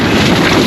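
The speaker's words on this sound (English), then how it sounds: "Gusts, crazy." A strong gust of wind hits a rooftop tent by a lake, a brief, loud, full-bodied roar of buffeting air close to the microphone.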